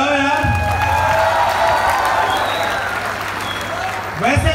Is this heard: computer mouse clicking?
no